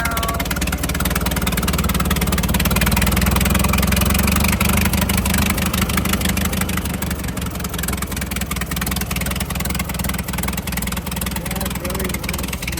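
Original, never-rebuilt engine of a classic Peterbilt truck idling steadily and loudly up close, a deep continuous rumble with a slight swell early on, while people talk over it.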